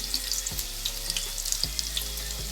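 Sausage fries in a pan with a steady, fairly quiet sizzle. A few soft knocks and small pops come through the hiss over a couple of seconds, and no one speaks.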